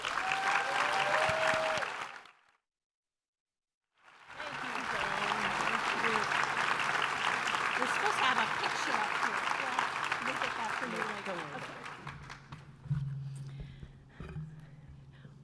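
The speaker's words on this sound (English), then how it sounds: "So let's give a big round of applause for WCV's 2018 Legislator of the Year, Representative Gael Tarleton." An audience at a conservation voters' breakfast event applauds loudly and steadily, breaking off for a brief silent gap before resuming and then tapering off as a voice speaks over the fading claps.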